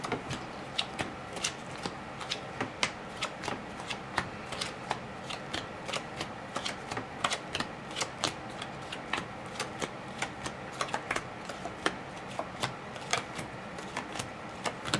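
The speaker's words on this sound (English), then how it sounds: "So I'll start with the cards face down." Playing cards are dealt face down into three columns of seven for a card trick, making a steady run of soft, close ticking slaps on a table.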